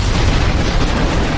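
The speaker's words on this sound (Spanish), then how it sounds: "Al producirse el impacto, las ollas vertieron su contenido, avivaron las llamas y provocaron una enorme explosión." Enormous explosion of a burning ancient fire ship: a loud, dense, continuous roaring blast filling the whole moment with no distinct onset or pause, heard alone without voices.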